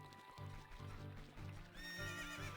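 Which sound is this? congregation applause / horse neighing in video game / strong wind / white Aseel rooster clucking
horse neighing in video game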